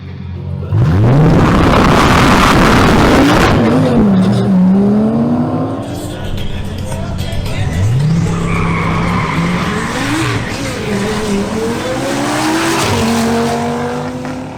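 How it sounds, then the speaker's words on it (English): An Audi RS3 and a Chevrolet Camaro SS launch in a drag race, with loud tire squeal and engines revving hard through rising, shifting gear sweeps that stay close and continuous throughout. "Maria Estrada in her Audi RS3 faces off against Cesar Navarro's Chevrolet Camaro SS"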